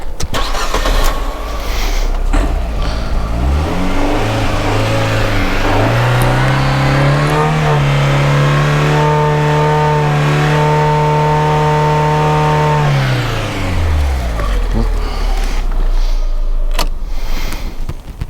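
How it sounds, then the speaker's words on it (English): A car engine cranks and catches, then climbs to a steady raised rev held for several seconds before dropping back to idle, loud and close, during a battery tester check. "this time I'm going to start the engine, get it to the revs"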